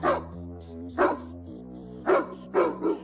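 A cartoon dog barks angrily in four sharp, separate barks, loud and close, with a sustained musical tone underneath.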